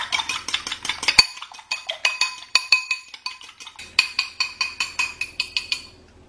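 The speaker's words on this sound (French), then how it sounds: "je vais battre un œuf dans un bol" An egg being beaten in a bowl, with a steady, brisk series of bright clinks and scrapes of utensil against the bowl's sides, close and clear with no voices.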